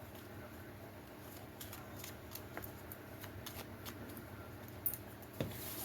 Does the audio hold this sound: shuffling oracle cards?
yes